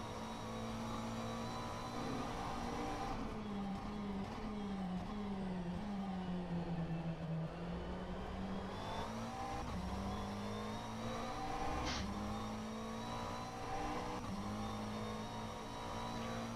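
Engine of a McLaren 720S GT3 race car in rFactor 2 at Sebring, a steady droning whine that dips and climbs in pitch through gear changes and throttle shifts, continuous and fairly quiet with no talk.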